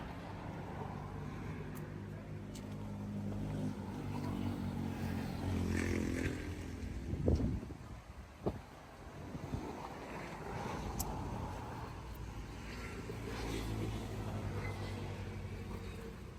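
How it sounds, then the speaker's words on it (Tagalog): Steady low hum of passing road traffic outdoors beside a garden, a continuous rumble that swells as vehicles go by, with wind buffeting the microphone. "Puro tunog ng sasakyan ang naririnig."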